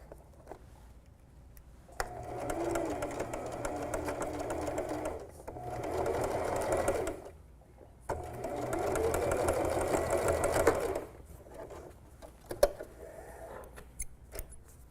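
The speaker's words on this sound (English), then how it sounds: "then we're just going to sew across there, stopping right at that notch." A sewing machine stitches fabric for a small mouse ornament in three clear bursts of steady whirring, with quiet pauses and small handling clicks in between.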